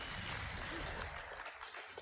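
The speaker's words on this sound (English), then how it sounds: "Give them a round of applause, everybody" An audience applauds at the AGDQ 2020 speedrun event, a dense burst of clapping with voices over it.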